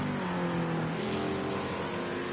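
Sim race car engine heard onboard the 19 car during a lap of Sonoma Raceway, a steady mid-pitched drone that climbs in pitch as it accelerates, with no talk over it.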